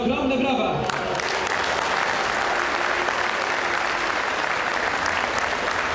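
A crowd at a politician's rally in Płock breaks into loud, sustained applause that holds steady throughout, dense and close, with a brief patch of voice or music just before it swells.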